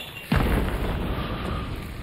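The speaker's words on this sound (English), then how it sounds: "Choke bomb." A choke bomb goes off in Hunt: Showdown with a single sudden burst. A loud, dense rushing hiss follows and holds steady afterward.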